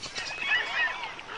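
Waterbirds such as skimmers and egrets calling along the shallow pools of an Amazon riverbank in the dry season, a dense chorus of overlapping honking and squawking cries, steady and fairly near throughout.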